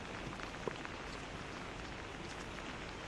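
Heavy monsoon rain pours steadily in Mahad, Maharashtra, a dense hiss of falling water, faint and unbroken, with no voices.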